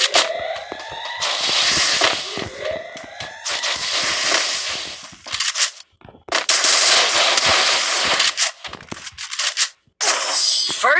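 AK-47 fire in a shooting video game comes as long, loud automatic bursts with rapid crackling shots, broken by a few brief pauses, under in-game noise.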